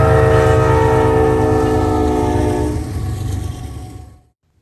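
A CSX freight train, IO 48, led by Veterans Unit 1776 near Ridgeway west of Marion, sounds a loud sustained multi-note horn over the deep rumble of the locomotive, then the horn stops and the rumble continues briefly before cutting off.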